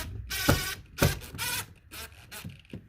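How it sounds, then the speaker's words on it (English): A big screw is driven into the speaker mount of a 1993–2002 Pontiac Firebird or Camaro, a close series of ratcheting, grinding turns in uneven bursts, with a few clicks between them. "I'm gonna go in with this big screw right here"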